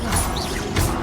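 Confringo and Incendio spells cast in the Hogwarts Legacy video game: two loud, close whooshing blasts about half a second apart, each a short burst of hissing crackle over a low rumbling game soundtrack.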